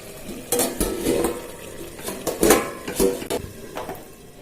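A pot of Bengali tomato and potato curry is handled on a gas stove. Close metal clinks and knocks ring out irregularly as the lid goes on and the cookware is moved, with a faint sizzle underneath.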